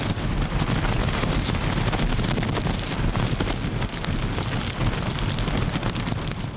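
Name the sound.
rough sea waves smashing against seawall during typhoon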